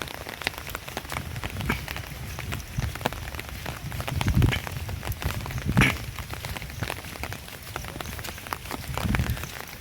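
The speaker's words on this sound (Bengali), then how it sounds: "আজকে সকাল থেকেই সুন্দরভাবে বৃষ্টি হচ্ছে" Steady morning rain pours down outdoors near ponds, a dense continuous patter of drops on surfaces with occasional louder swells, alone without voices.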